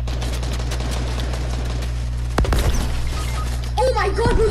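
Dense gunfire and explosive thumps from grenade launcher spam in a Fortnite-style shooter, a continuous loud rattle of rapid shots with a heavy boom partway through, while a voice talks over the barrage.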